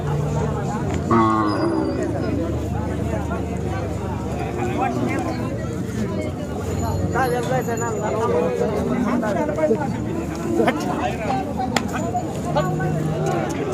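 Khillar cattle lowing amid a busy outdoor bull market crowd in Sangola, steady murmur of voices and animal calls mixed throughout, fairly loud and continuous.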